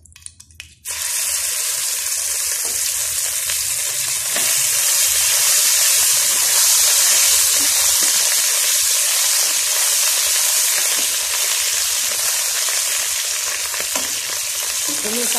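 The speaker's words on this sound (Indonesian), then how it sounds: "sekarang kita tumis sambal kita yang tadi dah tumbuk tu ya" Pounded dried chili and onion sambal sautés in hot oil, starting with a burst into loud, continuous sizzling and crackle that runs steadily close up, with no talking.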